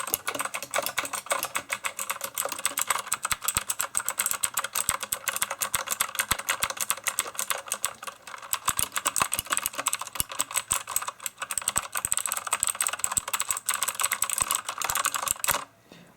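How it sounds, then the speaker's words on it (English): Rapid clacking keystrokes from a backlit Eagle Z-77 mechanical keyboard, close and steady, with brief pauses between bursts of typing and no voices. "So I'm just going to start typing away."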